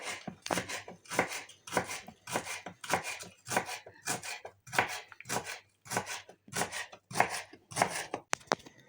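A knife chops rhubarb steadily on a cutting board, about fifteen crisp, evenly spaced strikes, close and clear with no talking.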